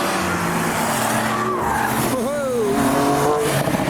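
A Volvo car slides on a wet race track at the Nurburgring Nordschleife after rain, with sustained engine roar and wavering tire squeal, loud and close, while people talk excitedly over it.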